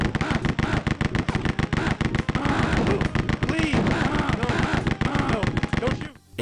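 Rapid, loud bursts of machine gun fire in the video game Rise of the Triad, dense repeated shots running almost continuously before cutting off at the end.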